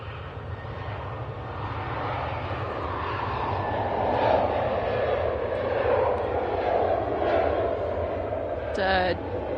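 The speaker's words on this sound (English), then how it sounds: "here we go with this Ryanair departure" A Ryanair airliner departs Manchester Airport, its engine roar rising gradually to a sustained rumble heard from some distance, with faint background noise and a brief chirp near the end.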